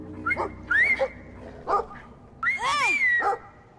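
A dog in the video game Brothers: A Tale of Two Sons gives a close series of sharp barks, yips and whimpers, about six in an uneven run, with a longer whining cry near the end.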